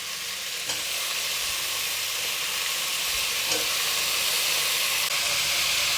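Cut potato and brinjal pieces hit hot oil in a pan and set up a steady, loud sizzling hiss that holds for several seconds, with faint clinks of stirring and no voices over it.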